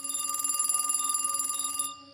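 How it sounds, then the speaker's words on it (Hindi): An old telephone bell rings in a rapid, rattling trill for about two seconds, then stops abruptly. "एक पुराने फ़ोन की घंटी"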